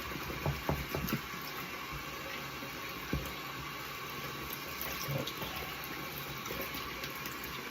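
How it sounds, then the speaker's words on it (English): A new shaving brush is rinsed under running water: a steady, soft tap stream with a few splashy knocks near the start, close and fairly quiet. "I'm gonna wash my brush out while I'm waiting"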